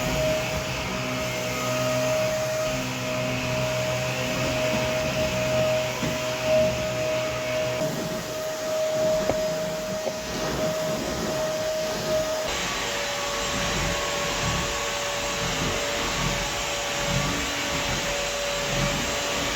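A vacuum cleaner runs continuously, picking up shed dog hair, with a steady loud whine and airflow hiss that shifts in tone partway through as the machine moves, with no talking.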